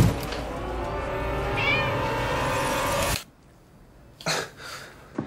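A cat meows amid a loud, busy film-trailer mix with dense background sound, then the bed cuts out and brief faint sounds follow in near quiet.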